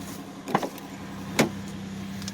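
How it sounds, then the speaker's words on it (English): 2004 Chevy Impala door locks releasing on a cold frosty morning: two sharp mechanical clunks about a second apart over a steady low hum, close and clear, no talk. "Unlock the car."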